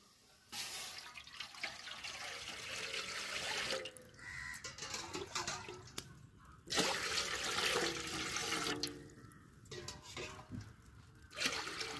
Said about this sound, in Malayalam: ഇനി നമുക്ക് ഇതിലേക്ക് കുറച്ച് വെള്ളം ഒഴിച്ചു കൊടുക്കാം.